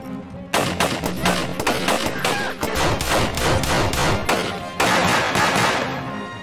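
Rapid bursts of war-film gunfire, sustained automatic shots with heavy repeated cracks, dense and loud throughout with a brief lull before a fresh volley.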